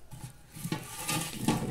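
A large metal soup pot being handled in a home kitchen, with scraping and clanking knocks at a steady close level over a continuous background hiss.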